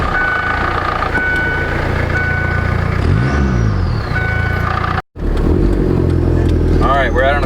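A Kubota Ranger UTV fitted with boost drives on a country road, its engine droning loudly and steadily with rising pitch sweeps as it accelerates, a brief cutout midway, and someone speaking over it.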